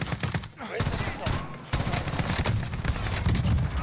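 Rapid gunfire in Call of Duty: Warzone, dense crackling shots and bursts throughout, near and loud, overlapping with game sounds and faint voice chatter.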